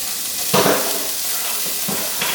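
Onions tipped into a hot, oil-free pan of darkened toasted cumin seeds give a steady hiss and sizzle, with a couple of soft stirring scrapes and knocks.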